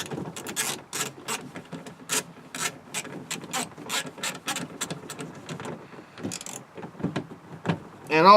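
A hand ratchet loosens the window regulator bolts inside the door of a 2003 Chevrolet Monte Carlo, giving close, rapid bursts of clicking with short pauses between strokes.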